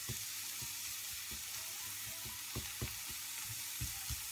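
Onions and shrimp frying in a pan, a steady sizzle with scattered crackles and short spatters, heard close with no voices.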